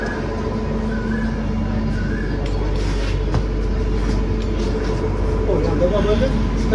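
The Saurashtra Mail passenger train pulls out of a station with a steady rumble and clatter heard from inside the coach, while a person talks over the noise.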